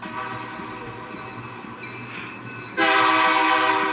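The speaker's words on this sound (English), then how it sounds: "Yeah, it's a train." A train rumbles past with clattering wheels, then a loud, sustained horn blast cuts in near the end, close and dominant.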